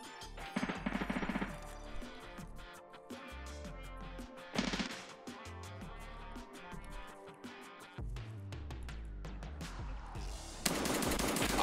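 Automatic gunfire from an Escape from Tarkov firefight rattles in repeated bursts, near and loud, with several sharp heavy shots standing out and a dense rapid volley near the end.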